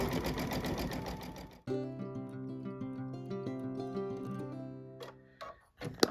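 Babylock embroidery machine stitching a built-in design: a fast, even mechanical whir with rhythmic ticking, stopping and restarting a few times before falling quiet with small clicks near the end.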